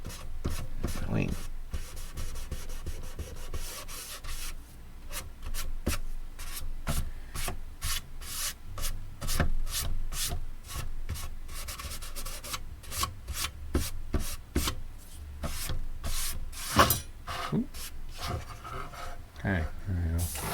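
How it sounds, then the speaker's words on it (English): Steady rubbing and scuffing on a space shuttle scale model, worked over to look weathered and well used, with dense repeated strokes running throughout, close and continuous, and a few faint spoken sounds beneath. "I think I'll give that a little bit of a rub."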